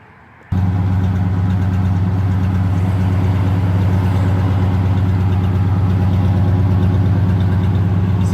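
A 1985 Oldsmobile Delta 88 engine with its finished exhaust fires up after a brief moment of silence and settles into a steady, loud, deep idle that drones on without a break.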